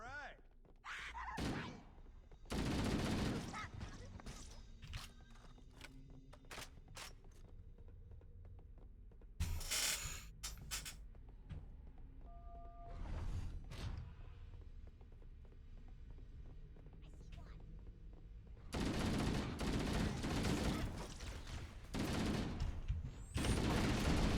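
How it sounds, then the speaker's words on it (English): Enemy gunfire in Halo, with bursts of automatic fire coming and going over a low hum, loudest in a sustained stretch near the end, while a player talks in between. "I love how they keep shooting after they die"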